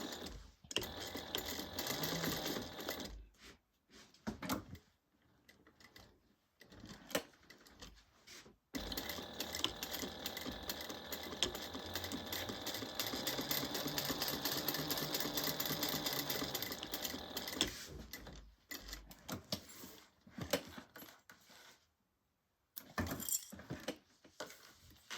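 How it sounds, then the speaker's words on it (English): Sewing machine basting zipper tape onto a bag lining, running in several bursts of rapid stitching, one long steady run in the middle, with short pauses and quiet gaps between. "as I'm sewing, because my zipper tape is a little bit longer, I like to backstitch over my zipper right here"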